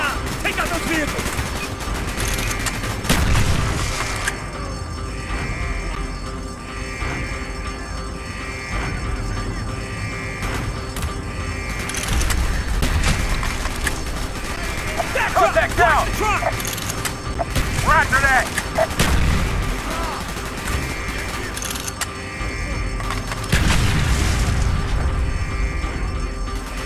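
Gunfire and explosions in the video game Call of Duty Black Ops, steady bursts of automatic fire and booms running throughout under a music bed, with voices talking now and then.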